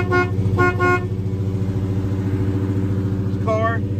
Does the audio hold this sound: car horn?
yes